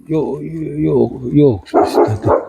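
A dog barks several times nearby on a walk through Nõmme and Kivimäe, with people talking over and around the barks.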